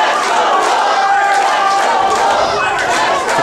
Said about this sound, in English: you can hear the crowd's getting right behind him